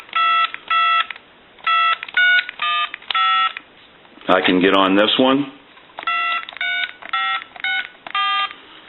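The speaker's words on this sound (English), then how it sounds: "And that's sending a tone out." A multi-telephone intercom system sends bursts of keypad-like tone sequences in quick, regular groups. Someone speaks briefly in the middle, then the tone bursts resume.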